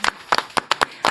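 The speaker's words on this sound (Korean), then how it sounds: "따뜻한 박수로 모시겠습니다" Applause and clapping from an audience at a memorial rally for victims of the Itaewon crowd crush, a handful of quick, irregular bursts of claps in a short stretch with no talk.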